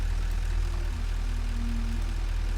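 A Satisfactory tractor engine holds a constant, loud, deep humming drone with faint tonal whines above it, heard alone without talk.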